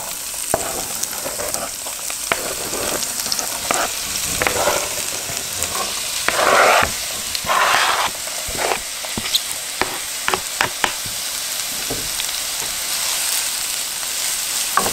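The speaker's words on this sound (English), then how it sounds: "we're going to saute them for a few minutes and get them all nice, soft, and glistening" Onions sauteing in a skillet sizzle and crackle steadily and close, with occasional stirring scrapes and louder bursts as they are moved around the pan.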